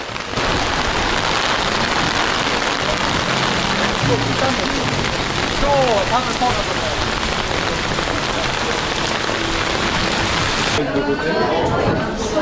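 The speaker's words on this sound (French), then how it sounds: "Vu qu'il pleut comme pas possible." Steady heavy thunderstorm rain pours throughout, a dense hiss of drops on surfaces, with faint voices and movement underneath.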